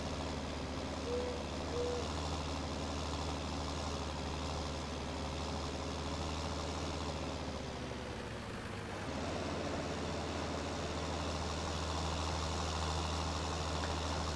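A tractor engine runs steadily at a low, rumbling drone while raking hay in a field, with a slight shift in tone partway through as it turns; no talking.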